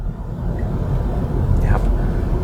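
A car engine holds a steady low drone while the driver presses the accelerator during a Thai driving lesson, with continuous road and cabin noise and no clear rise in revs.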